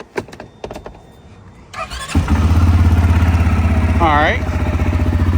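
A CFMOTO CForce 600 ATV engine cranks and catches after a brief exchange of words, then runs steadily and loud up close, with a rising squeal partway through over the drone.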